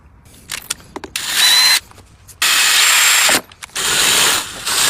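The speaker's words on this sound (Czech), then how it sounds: "vezmeme si nějaký malinký vrtáček, aby jsme si to předvrtali" Small drill bit pre-drilling screw holes, the power drill whining in three loud bursts of a couple of seconds each, separated by short pauses with faint clicks and handling noise.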